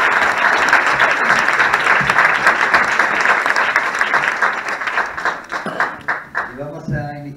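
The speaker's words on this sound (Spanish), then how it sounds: "Y un fuerte aplauso, por favor, para este pequeño monstruo que tenemos ahí" At a poetry and music event, an audience breaks into dense, loud applause that thins out toward the end as a voice begins to speak.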